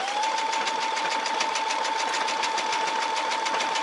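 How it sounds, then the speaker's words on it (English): A Brother SE630 sewing and embroidery machine runs steadily through a decorative stitch, a close, continuous mechanical whir with a rapid needle chatter and a sustained motor tone, without any talking. "I'm going to go ahead and hit the start button, and you can see one of my most favorite stitches here."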